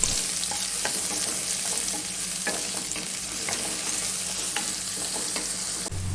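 Curry leaves and chopped onion sauté in a pan for ridge gourd curry, giving a steady, close sizzle of frying with repeated scraping clicks from a stirring spoon throughout.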